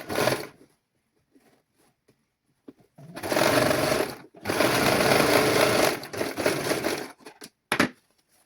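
A sewing machine stitches a girl's silk skirt in bursts: a short run, a pause, then longer whirring runs of rapid stitching, close and clear, with quiet handling sounds between them.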